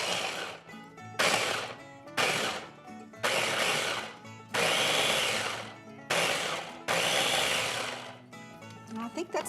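A food processor rices ingredients in several short pulses, each a loud whirring burst of about a second, with brief pauses between them and a fainter spin at the end.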